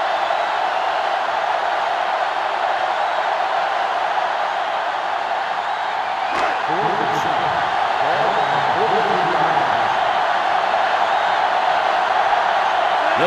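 Steady stadium crowd roar in an NCAA Football video game, a UCLA versus 1961 Alabama matchup, a constant wide wash of noise throughout with a brief swell near the middle, and a commentator talking over it.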